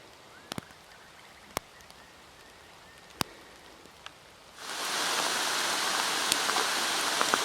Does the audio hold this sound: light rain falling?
yes